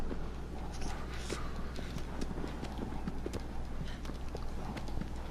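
Horse hooves clip-clopping at a steady walking rhythm in the Shadow of the Colossus video game, a continuous run of close, regular hoof strikes over a low background hum.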